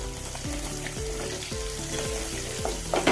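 Green chillies and curry leaves sauté in hot oil in a pan with a bright, continuous sizzle, while a low rhythmic hum pulses underneath and a few spatters crackle near the end.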